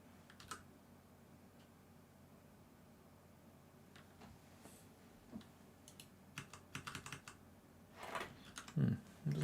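Fingers tap on a computer keyboard in quiet, irregular bursts that grow busier and louder toward the end, heard close up over faint room hiss.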